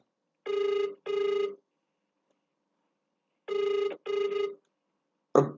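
A telephone rings in a classic double-burst pattern, two pairs of electronic trill rings separated by a pause, loud and clear in a quiet room, ending with a short click as the call cuts off.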